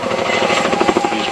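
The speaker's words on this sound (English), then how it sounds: "That manoeuvre is one of these Chinook signature manoeuvres, a 270-degree quick stop kind of handbrake turn for a helicopter." A Chinook helicopter at an air fair display swings through a 270-degree quick-stop turn, its heavy rotor thudding in fast, loud rhythmic beats close by.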